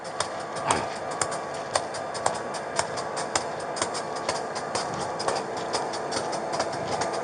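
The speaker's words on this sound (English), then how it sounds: "Please don't tell me that's another train coming." A train rolls past a railroad crossing with steady rumbling and regular clickety-clack beats from the wheels, fairly close and continuous throughout.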